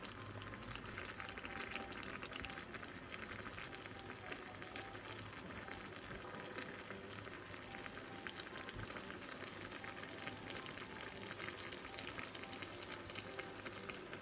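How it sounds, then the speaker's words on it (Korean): Radish and cutlassfish stew bubbles in a covered pot over medium-low heat, a faint, steady simmering hiss and burble with no breaks. "물이 바글바글 끓어오르면 중약불로 줄인 뒤 뚜껑을 닫아 15분간 끓여 무를 익혀주고"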